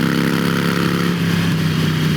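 A Harley-Davidson Iron 883 motorcycle drones loudly on the highway, its engine note steady and rising slightly as the throttle opens, heard up close with wind rush.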